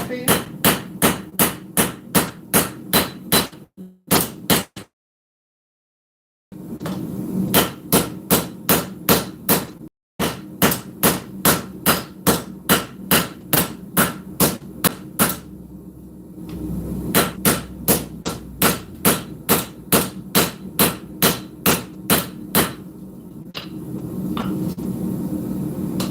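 Hammer strikes on a knife blade during forging with straight and cross peen hammers, rapid regular ringing metallic blows in steady bursts with brief pauses between runs, loud and close.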